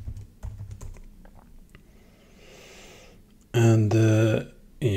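A password is typed on a computer keyboard in a short burst of faint key taps, followed by a loud, brief vocal noise.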